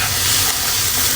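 Steak, onion and peppers sizzle loudly in a pan, a dense continuous hiss and crackle heard up close with no talk.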